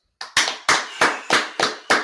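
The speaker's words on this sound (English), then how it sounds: "Clap it up." A group of people at a Sabbath service claps hands in slow, even unison, about seven sharp, close claps alone with no speech.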